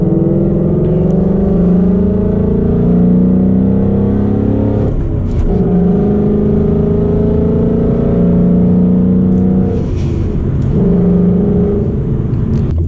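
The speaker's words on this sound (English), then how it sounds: "There's something about a manual Mustang that you just cannot ignore, and that is, you know, the beautiful noises that it makes" A 2019 Ford Mustang GT with a manual gearbox pulls hard through the gears, its deep engine roar climbing steadily, breaking briefly at each shift and climbing again, loud and close throughout, with no voices.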